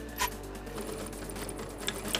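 A sewing machine stitches a pocket on a Punjabi dress, making a faint, even mechanical whirr with a few soft clicks and taps over quiet room tone.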